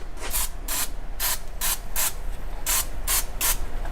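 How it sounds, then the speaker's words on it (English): Aerosol traction spray goes onto dyno rollers in about nine short, sharp hissing bursts, evenly spaced and close by, with no talking. "They spray this on the rollers so the tires don't spin."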